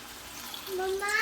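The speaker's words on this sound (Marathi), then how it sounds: "आता ह्याच्यामध्ये मी पाणी ऍड करते" Water pours into a cooking pot for prawn biryani with a rising, brightening gurgle as the level climbs, faint at first and growing louder toward the end, with no talking.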